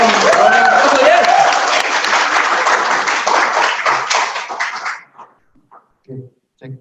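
Indonesian seminar audience gives a loud, full round of applause for a guest speaker, dense clapping that tapers off after about five seconds into a few short voice sounds.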